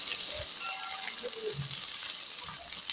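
Chicken frying in a pan gives a steady, close sizzle with faint stirring and scraping sounds, and no voices.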